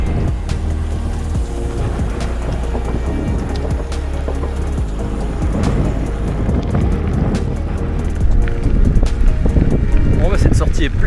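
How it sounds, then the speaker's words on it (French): Steady wind roars across the microphone on a long gravel bike ride near Abbeville in northern France, a continuous loud rush throughout, with a voice over it. "Il y a du vent, mais je l'ai plutôt favorable maintenant, légèrement favorable."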